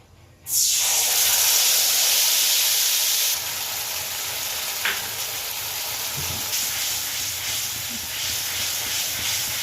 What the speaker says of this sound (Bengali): গরম হয়ে গেছে আমি এতে জিরে ধনে আর আদা বাটা একসঙ্গে করে রেখেছি ভিজিয়ে সেটা দিয়ে দিচ্ছি